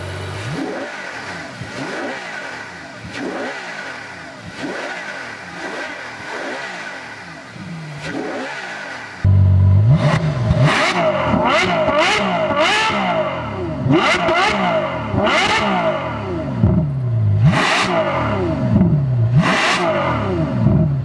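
A 2014 Ferrari F12 Berlinetta's 740-horsepower naturally aspirated V12 idles and then blips through a series of sharp, loud revs, with repeated rises and falls in pitch that grow louder midway, and no talking.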